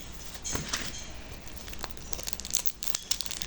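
Close crinkling and rustling of a plastic packet, irregular bursts of crackle as it is handled, no voices.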